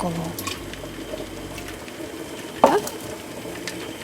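Vinegar at 9% strength is poured into a simmering borscht dressing, giving a short liquid splash over the low bubbling of the pot.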